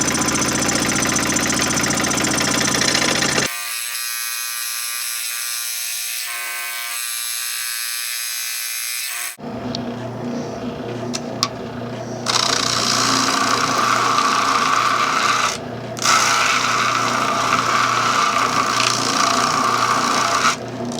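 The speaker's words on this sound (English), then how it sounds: "Got the jigsaw set on a slower speed, and I'll just take my time and slowly cut this." A jigsaw on a slow speed setting cuts a wooden fretboard blank for a Les Paul, giving a loud, continuous buzzing rasp that drops out for several seconds, then resumes with short breaks.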